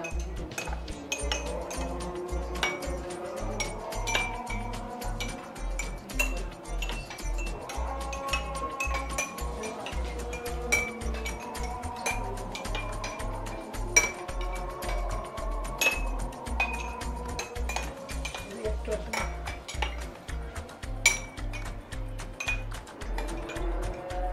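A spoon stirs milk tea in a cup, giving rapid, repeated light clinks against the sides over a low steady background hum, with no talk.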